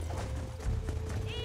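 Horses gallop in Red Dead Redemption with fast rhythmic hoofbeats and a brief whinny, up close, while a voice talks over the action.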